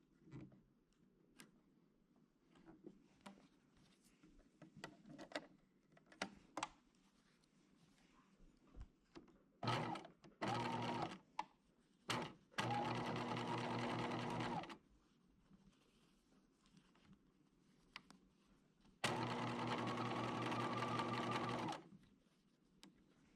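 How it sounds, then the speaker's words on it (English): A sewing machine top stitches a fabric bow's opening closed, running in two steady bursts of about two and three seconds, close and loud, separated by handling clicks and rustles. "we're going to top stitch that closed"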